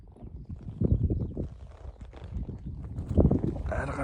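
Hoofbeats of a horse ridden in pursuit of runaway calves, a quick irregular thudding cadence close by, mixed with wind buffeting the microphone.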